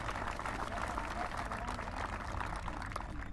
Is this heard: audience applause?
yes